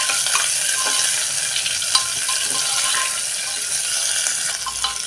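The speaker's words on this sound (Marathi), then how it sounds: "कांद्याचा थोडा कलर बदलेपर्यंत, कांदा थोडा मऊ पडेपर्यंत आपण चांगला परतून घ्यायचा आहे." Thinly sliced onion sautéing in a pan gives a steady, close sizzle, with occasional soft scrapes and clicks as it is stirred, and no voices.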